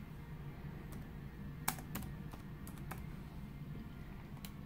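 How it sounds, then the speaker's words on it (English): Keys are tapped on a computer keyboard while an order is entered, a few soft scattered clicks over a steady background hum, quiet and close, with no talking. "I find it easiest to type in strep culture."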